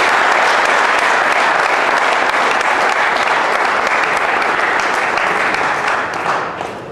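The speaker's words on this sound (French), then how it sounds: "ça mérite des applaudissements." An audience at a sports talent awards ceremony claps loudly and continuously for several seconds, a dense, even roar of hands that tapers slightly at the end.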